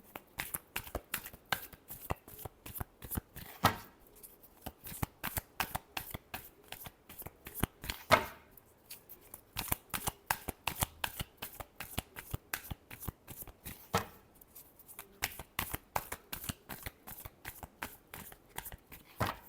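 Tarot cards are shuffled continuously and close up, with quick riffling and flicking bursts in an even, crisp rhythm that runs on without any talk.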